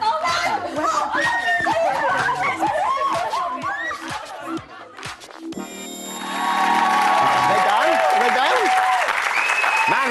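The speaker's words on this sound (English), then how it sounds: "Some loud cheering." A Big Brother UK house crowd laughs and chatters, then breaks into loud cheering and applause that swells and holds at full strength for the final seconds, with voices talking over it.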